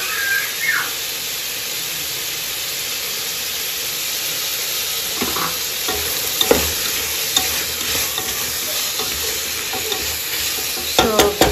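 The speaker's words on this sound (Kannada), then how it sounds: "ಸ್ವಲ್ಪ ಮೂಲಂಗಿ ಹಸಿ ವಾಸನೆ ಹೋಗೋಷ್ಟಂತ ಚೆನ್ನಾಗಿ ಫ್ರೈ ಮಾಡ್ಕೊಬೇಕು." Radish pieces frying in a pan, a steady close sizzle and hiss with occasional scraping and clattering stir strokes, louder toward the end, no one talking.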